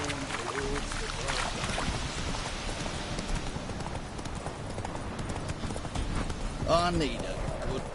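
Horse hooves clip-clop at a steady gallop in the Witcher 3 video game, a continuous rhythmic beat with rain-like noise over it, while someone speaks briefly over the hoofbeats.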